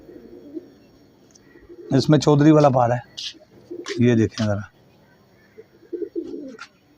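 A Teddy pigeon kept in a loft coos in soft, low, repeated phrases close by, while someone talks over and between the calls.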